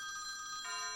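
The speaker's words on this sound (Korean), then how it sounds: "로제난에게 전화를 거는 우리의 의사 양반" A telephone rings steadily and faintly, a continuous electronic tone that shifts pitch partway through, with no voices.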